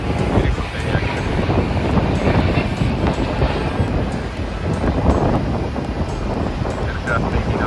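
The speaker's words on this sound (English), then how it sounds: "Aircraft taking out runway 24" An aircraft takes off from runway 24 at Amsterdam airport, heard as a loud, steady roar heavily mixed with gusting wind buffeting the microphone throughout.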